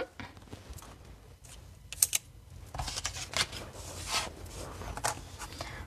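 Soft mechanical crunching and clicking as paper feeds through a die-cutting machine, a steady grinding with a few sharper ticks, close by in a quiet room.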